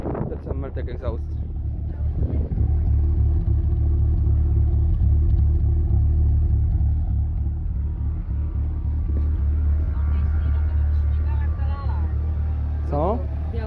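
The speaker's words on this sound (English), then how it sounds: "That's a Mertek exhaust." Abandoned Ford Fiesta ST150 with a Mertek exhaust idling, a deep steady engine rumble that runs throughout, with people talking over it near the start and end.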